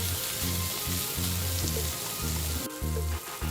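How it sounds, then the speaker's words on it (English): Tomato pieces fry over a raised flame in a pan of oil with curry leaves for a stovetop Indian fish roast, a steady close sizzle and crackle with no talking. "Increase the flame a bit and fry the tomato pieces for 1 minute"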